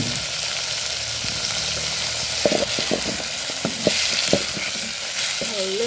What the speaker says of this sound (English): I'm gonna cook them until golden brown. The carrots, and the green pepper at the same time.